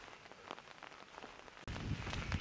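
Rain falling outdoors on a hike along the Baltic coast, a steady hiss of drops on surfaces that grows louder and heavier partway through, with no talk.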